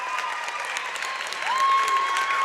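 A crowd at a girls' high school regional semifinal basketball game claps and cheers at the final buzzer. The moderately distant applause swells partway through as a sustained tone rings out.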